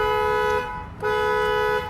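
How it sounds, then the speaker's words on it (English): Two long car horn blasts, loud and close, separated by a short gap, at a gas station pump. "He honked and waited."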